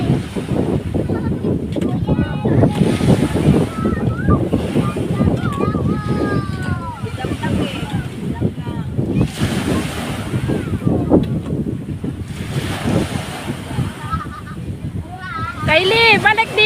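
Rough ocean waves roll and crash continuously at a Calatagan, Batangas beach, a loud sustained surge mixed with gusty wind noise, while several people shout and talk over it.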